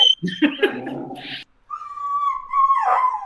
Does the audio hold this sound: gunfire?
no